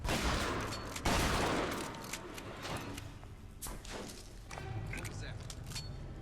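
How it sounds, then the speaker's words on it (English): Rapid bursts of gunfire in the video game Bioshock Infinite: Burial at Sea crackle amid scattered clicks and thuds, with a voice talking over the noisy action. "I think I heard several gunshots, but I'm not too sure."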